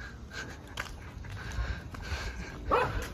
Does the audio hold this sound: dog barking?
yes